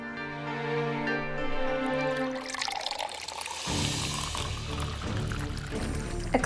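Water poured into a glass or container in a home, a steady rushing stream that starts partway through and continues to the end, heard close and fairly loud over faint background music.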